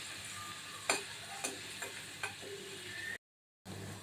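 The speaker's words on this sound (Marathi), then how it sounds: "आपण लसूण आणि मिरची जी आपण बा जाडसर वाटून घेतलेली आहे ती घालूया" Coarsely ground garlic and green chili paste sautéing in hot oil, a quiet, steady sizzle broken by a few distinct taps of a spoon against the pan, with a short gap of silence near the end.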